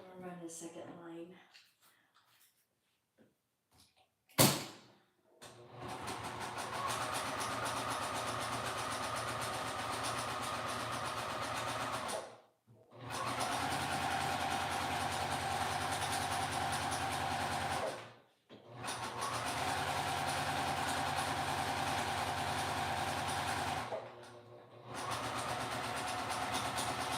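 Sewing machine stitching a pillow case seam, its motor humming in several long, even runs separated by brief pauses, after a quiet stretch of handling and a sharp click.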